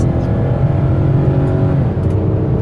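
Engine of a 2016 Dodge Caravan SE mobility van hums loud and steady from inside the cabin during a test drive, a continuous low drone with road noise.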